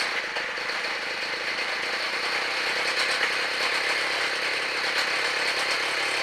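A gas-powered mobility scooter engine running steadily after a shaft repair, a buzzy, high-pitched small-engine drone with a fast rattling pulse, continuous and fairly close throughout.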